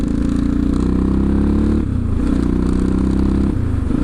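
A CCM DS 644 motorcycle engine drones steadily and loudly while riding along a road, a strong low rumble with a brief dip in pitch near the middle before it picks back up, heard alone without talk.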